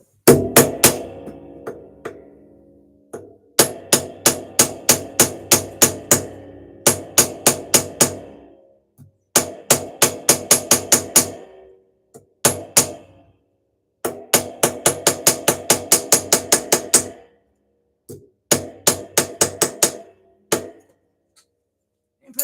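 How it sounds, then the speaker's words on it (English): Metal hammer striking a handmade metal ring to square it up, sharp close ringing taps in quick rhythmic bursts of several blows each, separated by short pauses, with no talk. "Part of me is almost considering just hammering this back to being square."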